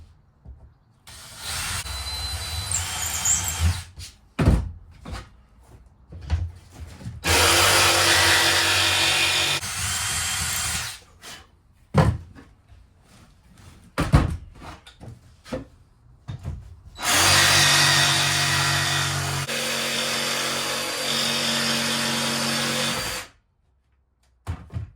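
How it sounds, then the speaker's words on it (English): A jigsaw cuts wood for a replacement cupboard back panel in two long, loud, steady bursts of rasping cutting, separated by shorter knocks, taps and handling noises. "I just go along with the jigsaw"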